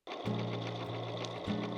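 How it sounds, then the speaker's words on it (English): A Swiss-made domestic sewing machine stitches steadily at close range, its motor humming under a rapid needle clatter, with a brief speed change partway through and no voices. "Just sewing with this is such a dream."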